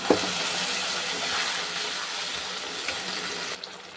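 Potatoes and drumstick vegetables frying in oil for a Bengali katla fish curry, a steady, even hiss and sizzle throughout with a few faint clicks.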